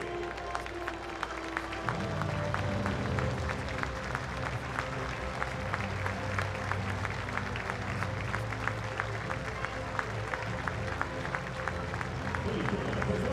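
A ballpark crowd applauds in honor of a Pennsylvania Army National Guard corporal at a Lehigh Valley IronPigs game against the Columbus Clippers, a broad, steady wash of clapping and cheering that carries on with a low hum beneath it.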